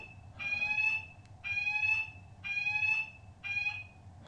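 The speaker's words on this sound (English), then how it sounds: "Little fire alarm there. I don't know if you heard that on the video." A small fire alarm beeps in four evenly spaced shrill bursts, each about half a second long, ringing out alone indoors with no talk over it.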